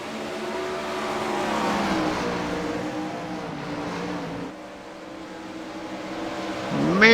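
A race car engine roars steadily as the car slides sideways through a turn, a loud sustained drone that dips briefly and then surges into a sharp rising rev at the end, with no voices.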